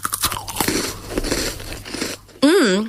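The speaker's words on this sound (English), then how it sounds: "It's the right amount of crunch and OMG, so much chocolate." Crunchy chocolate snack bitten and chewed close to the mic, a run of loud crisp crunches and chomps for about two seconds, then a short burst of sound.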